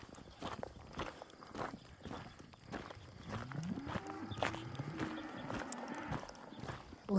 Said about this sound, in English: Right into a bunch of braying cows.